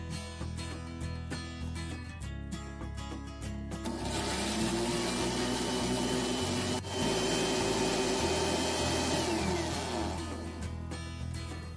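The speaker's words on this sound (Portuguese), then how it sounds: "Os 6 ovos estão aqui e agora a gente vai bater por volta de 1 minutinho." A blender beats six eggs, starting with a low motor hum and then surging into a steady, dense whir that holds for several seconds, close and continuous with no talking.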